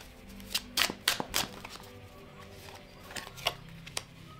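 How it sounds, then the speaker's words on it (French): Tarot cards being shuffled and drawn, a few quick papery riffles and flicks in short clusters with pauses between, close and fairly quiet, no voices. "Regardez les cartes que je vais tirer"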